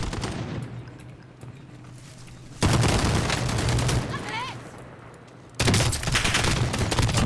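Rapid bursts of automatic gunfire in a shooter video game crackle loudly in two sustained volleys, with shouted voices over the fighting.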